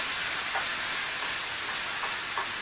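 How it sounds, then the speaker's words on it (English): Meat sizzles steadily in hot oil in a pan, a dense, loud, continuous hiss with faint periodic pops, no voices. "Now we're going to add our meat to the oil."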